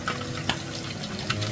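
Sea bass sinigang simmers in a pot, a steady low bubbling and sizzling texture with a couple of small splashes, close and continuous without talk.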